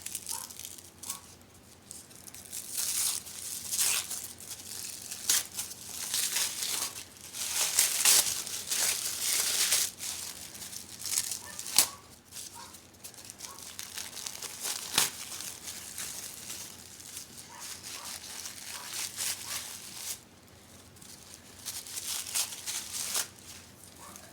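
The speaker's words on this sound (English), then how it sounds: "paper's a little bit tough to get off." Paper is peeled off the legs of a new Adolly doll during a box opening, making close, irregular crinkling and tearing rustles in short bursts over about 24 seconds.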